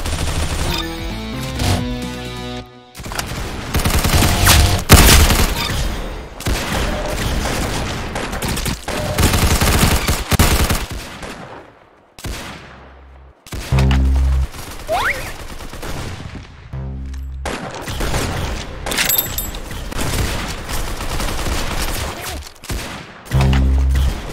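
Rapid gunfire in the Roblox Arsenal shooter game, loud bursts of automatic fire and repeated single shots filling the clip with only brief gaps, no voices.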